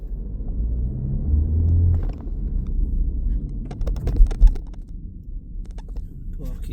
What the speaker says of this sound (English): Big speed bump here.